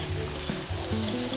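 Prawns stir-fried in a wok, a short burst of steady close sizzling with a few stirring and tossing clatters.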